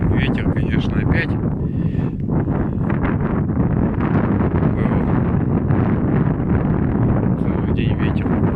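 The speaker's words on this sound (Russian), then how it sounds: "Ветер, конечно, опять." Strong wind at an outdoor shooting range roars steadily against the microphone in dense, rough gusts, with someone speaking underneath.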